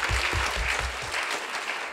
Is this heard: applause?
yes